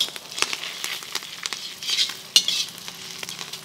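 Dry coconut and chana dal roast in a pan while being stirred, giving a light, crackling sizzle broken by repeated utensil scrapes and taps against the metal, close and clear.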